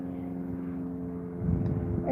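An airplane passes overhead near a seaside jetty at Largs Bay, South Australia, giving a steady low droning hum that swells slightly toward the end.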